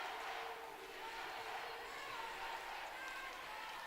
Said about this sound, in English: you've got the BFA folks up here cheering